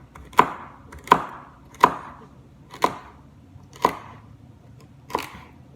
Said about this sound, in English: So I cut them long ways and then I chop them up.